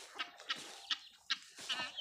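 Chickens cluck in a morning farmyard with buffalo grazing nearby, giving several short, fairly close clucks and squawks spaced about every half second over quiet background.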